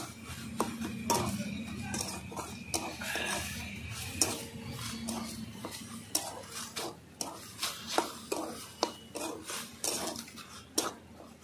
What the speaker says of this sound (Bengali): এইভাবে আমি আরেকটু নেড়ে চেড়ে নামিয়ে দেবো